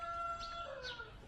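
Chickens bought for a family home in Marinduque call faintly, a thin drawn-out crowing cry followed by short clucking notes over a steady tonal hum in the background.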